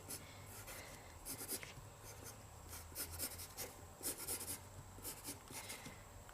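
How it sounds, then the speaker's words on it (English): Pencil sketching a manga body on paper, with quiet scratchy strokes in irregular bursts, close and faint, with no talk. "I will just sketch it out again"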